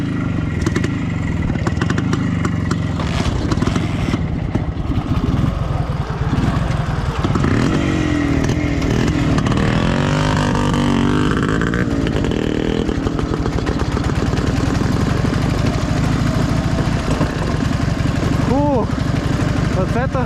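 Dnepr MT 11 and Minsk 125 motorcycles ride through a muddy swamp, their engines droning loudly and continuously with revving surges throughout, while voices talk over the noise.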